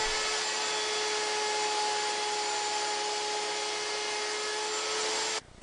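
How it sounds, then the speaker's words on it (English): A router fitted with a 1/4 inch round over bit shapes the bottom edges of wooden table apron rails, a loud, steady, high whine with constant broadband roar that cuts off sharply near the end. "Now routing the bottom edges of my apron rails with a 1/4 inch round over router bit."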